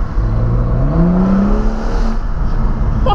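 A BMW 135i biturbo with 340 hp revs up, its engine note climbing in pitch then easing off, loud and close, with no talking over it.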